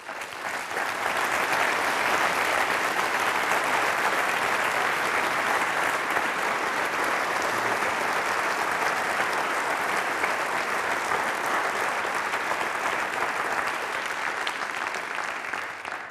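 Sustained, loud applause from a university lecture audience welcoming a speaker, a dense unbroken wash of clapping that stays level throughout with no voices.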